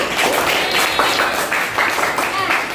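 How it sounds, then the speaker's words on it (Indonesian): Classroom of students clapping hands together after singing a Makassar-style song, a dense steady patter of many hands at close range filling the whole moment, with no talk over it. "Oke, tepuk tangan untuk kita semua."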